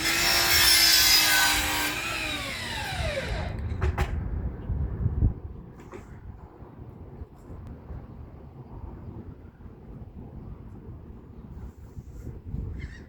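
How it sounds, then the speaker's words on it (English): Saw cutting through a PVC sewer cleanout riser pipe, a loud rasping burst for the first few seconds, then fainter scraping and rubbing strokes with small knocks. "That's one way to get a very straight cut, is to use a one of those saws."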